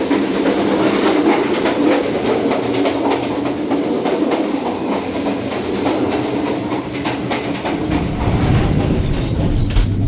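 Heard from inside a carriage of the air-conditioned Shalimar Express, the train rumbles steadily with repeated clickety-clack of wheels on rail joints and a heavier lurch near the end.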